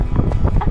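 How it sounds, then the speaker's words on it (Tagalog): Strong wind buffets the microphone during a bike ride at New Clark City, making a brief, loud, muffled rumble with no speech. "Ang lakas ng hangin."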